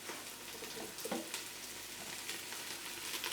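Chopped celery and leek soften in a hot pot, a faint steady sizzle with soft crackles and occasional stirring clinks, no talking.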